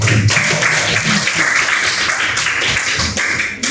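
Classroom applause from a group of students during a lesson, dense steady clapping that fills the whole stretch at close range, loud and even before tapering slightly at the end.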